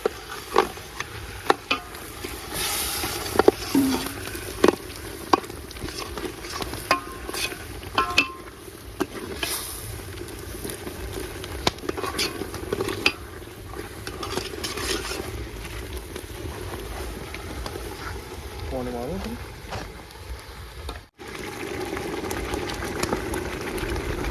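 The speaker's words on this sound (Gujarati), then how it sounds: "સિંગ ભજીયાનો આપણે જે ભૂકો કર્યો હતો એ અને સિંગ ભજીયા હવે આપણે નાખી દઈશું શાકમાં. ચલાવીએ." Peanut bhajiya and their crumbled pieces being stirred into a village-style vegetable curry in a pot, with steady bubbling, scraping and clinking of a spoon against the metal pot over 24 seconds, no talking.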